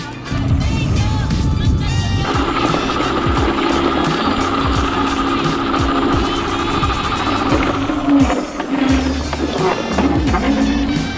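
A Ninebot Gokart Pro electric go-kart climbing a hill outdoors, its motor whine and rumbling tyres loud and close throughout, with a bump or knock around the midpoint.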